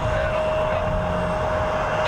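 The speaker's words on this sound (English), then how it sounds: "Here's a Cirrus." Small Cirrus propeller plane passing at Columbus John Glenn International Airport, a steady engine drone with a sustained tonal whine, loud and continuous throughout.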